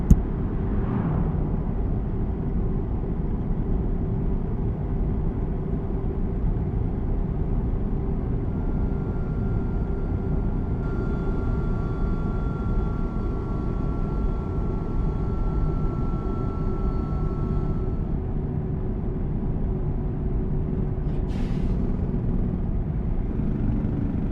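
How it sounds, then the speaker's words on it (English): Truck driving in American Truck Simulator, hauling oil on a road from Texas to New Mexico: a steady low engine drone and road rumble runs throughout with no talk, a faint whine joining midway. "Meet up for a bit so y'all can just listen to the truck."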